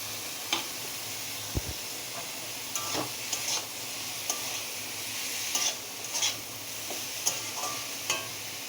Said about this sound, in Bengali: মোচা কাবলি ছোলা, ওটা আমি এখন এই মশলার মধ্যে দিয়ে দেব